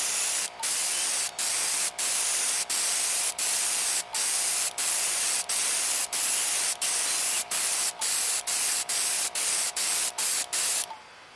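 Airbrush-style spray of two-part fast-drying urethane conformal coating onto a circuit board for a second coat, a steady loud hiss broken by short regular pauses, about eighteen bursts, with no talking.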